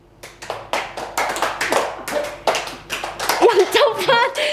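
Classroom students clap hands in quick counted patterns, producing a long, busy stream of overlapping group claps, close and lively. A voice breaks in near the end and talks over the last claps.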